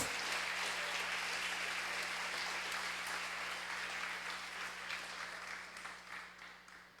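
A church congregation applauds during a sermon, a long even roar of many hands clapping, moderately distant, gradually fading toward the end.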